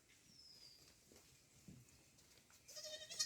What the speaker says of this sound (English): A group of goats, a flock of goats.